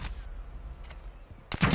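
Gunfire rings out in a Warzone 2.0 match, scattered faint shots early, then a loud close burst of rapid fire near the end, with no talking.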